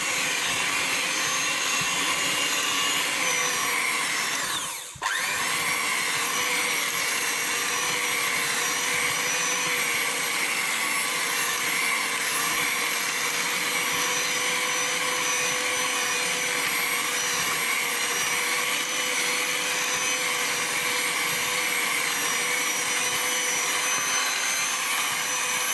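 An electric mixer creams butter with white and brown sugar in a steady, loud whirring hum that runs without letup, broken only by one brief dip early on, with no talk.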